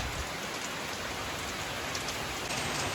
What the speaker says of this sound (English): It is just pouring the rain right now.